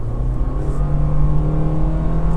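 A Toyota Glanza accelerates at full throttle, its engine droning steadily and loudly from inside the cabin without any speech.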